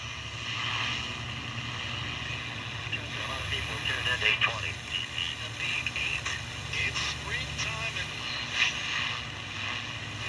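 A Sanyo RP-1250 AM-only pocket radio plays a tinny, steady broadcast in an office, with a constant hum and hiss of electrical interference from nearby electronics under a faint voice-like signal.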